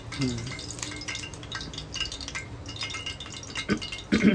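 A spoon stirs salt and spices into food in a pan, soft scraping and clinking with a light sizzle, close and fairly quiet, with brief voices in the background.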